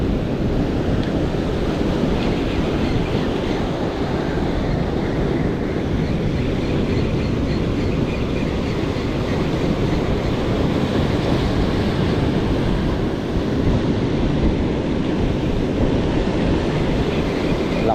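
Strong sea waves and gusting wind at sea in rough weather with heavy rain, a dense, loud, unbroken roar buffeting the microphone throughout with no talk.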